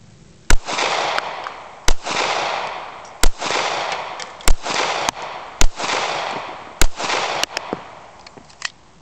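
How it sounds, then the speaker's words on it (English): Rapid fire from a Kahr P380 pistol at an outdoor target stand: sharp, loud single shots spaced roughly a second apart, each followed by a short echoing decay, with no talking. "I'm going to do fairly rapid fire. I'm going to do the kahr p.380 at the top target,"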